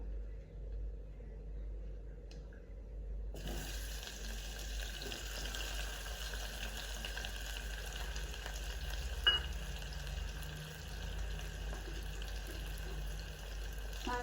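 Chopped onion frying in hot oil with cumin seeds in a home kitchen pan, a soft continuous sizzle with a faint clink partway through, low and close, no talk.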